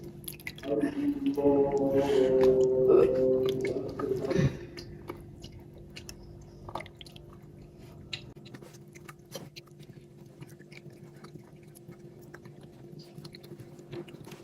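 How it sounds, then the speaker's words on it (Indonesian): Orange pudding poured into plastic cups, a soft wet squishing pour for the first few seconds, then quieter drips and faint handling noises, close, with voices in the background. "Lanjut tuang puding jeruk ke dalam cup. Ini saya tuang sampai di garisnya ini ya teman-teman."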